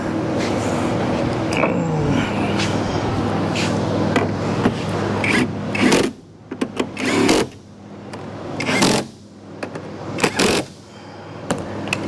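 Bolts are tightened on a 2012 Kia Soul EV battery pack, with close ratcheting and creaking tool noises followed by several short, sharp bursts of effort and clunks amid a steady background hum.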